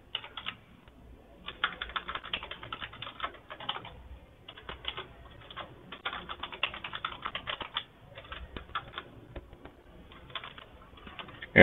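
Steady, fast typing on a computer keyboard while filling in an online account sign-up form, the clicks coming in bursts with brief pauses between them, close and fairly quiet with no talking.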